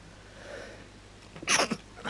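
A single short, sharp human sneeze bursts out near the end after a quiet stretch, close and fairly loud.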